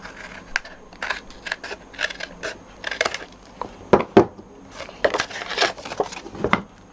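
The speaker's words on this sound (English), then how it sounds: "I've got my nice big craft scissors here, and I'm just going to trim away the bits that I don't want" Large craft scissors trimming paper card, a run of short, crisp snips and crunches in irregular bursts, close and fairly quiet, with no talking.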